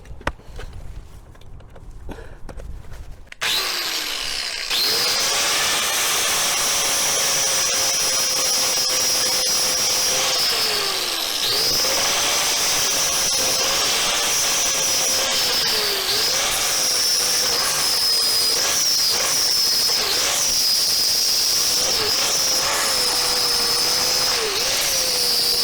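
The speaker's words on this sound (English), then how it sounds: "we're going to remove this weld using the flap wheel" An angle grinder fitted with a flap wheel is switched on and grinds down a metal weld in a metal shop, a loud continuous whine that dips briefly as pressure on the workpiece shifts, after a few quiet seconds.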